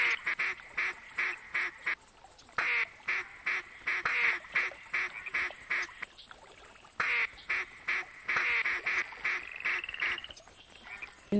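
Repeated mallard duck quacks in the hunting game theHunter, a steady, rhythmic stream over a high electronic tone, with brief gaps between bursts of calls.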